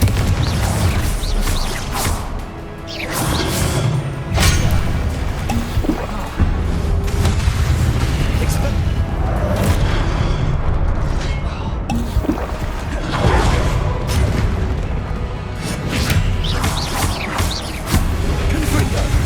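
Confringo fire-blast spell explosions in the game Hogwarts Legacy, a dense run of loud, booming blasts with whooshing bursts one after another, continuous and close over a rumbling background.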